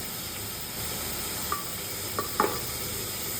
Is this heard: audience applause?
no